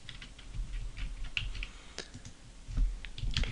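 Keyboard shortcuts being pressed on a computer keyboard during work in Maya, producing a short burst of sharp, close key taps that come in irregular clusters.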